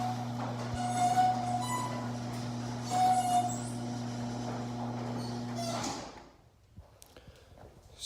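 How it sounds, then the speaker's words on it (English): A Chamberlain chain-drive garage door opener runs a squeaky door closed: a steady mechanical hum with high, whining squeaks rising over it for about six seconds, then the noise stops abruptly and goes quiet. "The door is a little squeaky though."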